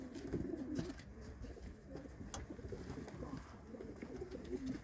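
Pigeons coo softly and repeatedly, low throaty calls overlapping at close range with faint background noise.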